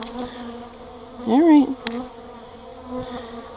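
Honey bees swarming around a beekeeper's face, a close, rising buzz of one bee passing near, with a short spoken remark and a quieter hum around it.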